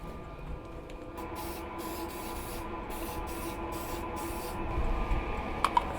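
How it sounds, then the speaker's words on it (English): Primer sprayed onto a drain hose connection inside a DIY Sprinter van, a steady close aerosol hiss running in several short pulses, with a couple of faint clicks near the end. "Spray a little primer first."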